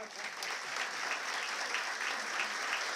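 An evening lecture audience in Mumbai breaks into sustained, even applause, a thick crowd of clapping hands heard at a steady moderate level from start to finish.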